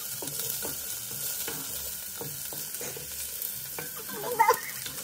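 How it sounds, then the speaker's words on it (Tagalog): Garlic frying in a pan while being stirred, with a steady sizzle and repeated soft scraping strokes, plus a brief louder clatter near the end. "Haluin lang siyang bawang."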